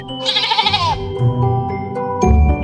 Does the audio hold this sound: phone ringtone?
no